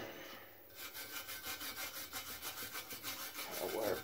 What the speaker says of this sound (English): wire brush some of the rust off the bottom